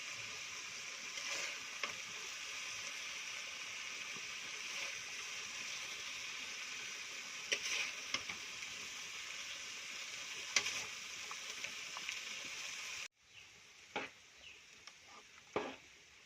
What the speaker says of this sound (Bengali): এবার খিচুড়ির ভিতর টমেটো আর আদার পেস্টটা দিয়ে দেব।